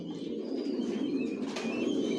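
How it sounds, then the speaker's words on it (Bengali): Racing pigeons of the Janssen line cooing in a loft, a steady low murmur of several birds close by, with faint higher chirps above. "লং এর কবুতর পালি, সব জনসন লাইনের"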